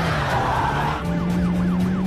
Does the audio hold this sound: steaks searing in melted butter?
no